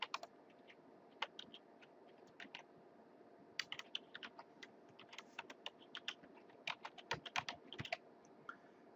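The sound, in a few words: typing username on computer keyboard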